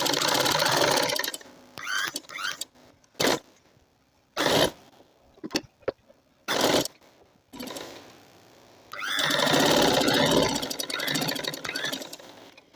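Sewing machine stitching elastic into a palazzo pant, running in several short bursts and brief taps followed by a long continuous loud stretch of fast stitching at close range.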